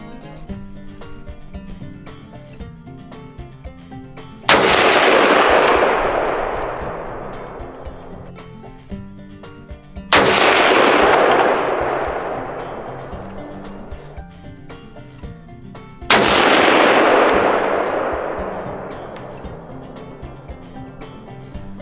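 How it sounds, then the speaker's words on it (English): Three loud rifle shots from a Sauer 303 chambered in 7x64, fired outdoors a few seconds apart, each a sharp crack followed by a long rolling echo that fades slowly. "Three shots."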